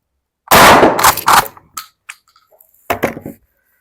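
A Sterling submachine gun fires at an outdoor range: a sharp loud burst of close reports, then a few fainter echoing follow-up shots and a final short burst.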